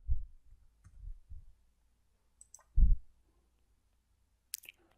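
A computer mouse clicks on a website link: a few sparse, faint clicks with soft low thumps and long quiet gaps between them.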